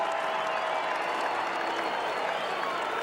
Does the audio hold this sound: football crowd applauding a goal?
yes